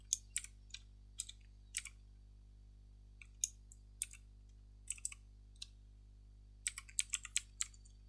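Keys clatter on a computer keyboard as a letter number is entered into an office archive search, with quick irregular bursts of clicks spread through the clip over a low steady electrical hum, close and fairly quiet.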